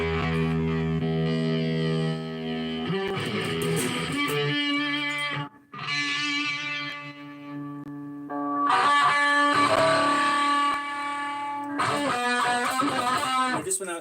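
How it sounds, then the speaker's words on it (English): Electric guitar played through an amp with a Rat distortion pedal, loud sustained distorted chords and notes ringing out in several phrases separated by short gaps. "Along with my rat pedal, which I'm actually using today."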